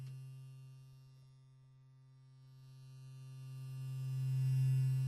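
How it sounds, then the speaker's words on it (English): A curious electric humming comes from inside a strange object in a radio drama: a steady low drone with layered overtones that swells, dips and swells again, alone with no voices. "It's a curious humming sound that seems to come from inside the object."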